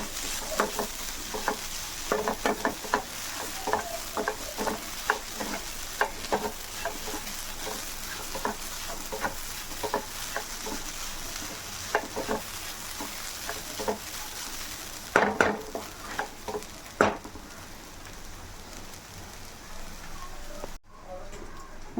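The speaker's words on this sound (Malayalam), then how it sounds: "നമുക്ക് തേങ്ങ ഒന്ന് വറുത്തെടുക്കാവേ." Grated coconut dry-roasts in a pan for a roasted prawn curry, giving off a continuous close sizzle. Regular spatula scrapes and stirs run through it, with a few sharper knocks near the end.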